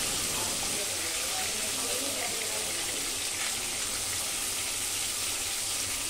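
Catla fish pieces fry in hot oil for a dahi katla dish, giving a loud, continuous hiss that stays even throughout with no audible talk.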